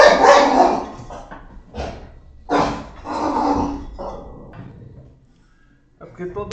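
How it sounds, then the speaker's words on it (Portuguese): A pet female dog barks in a few loud, close bursts indoors, separated by short pauses, alongside a person speaking. "toda vez que eu vou gravar aqui, a minha cachorra, ela quer participar de alguma forma"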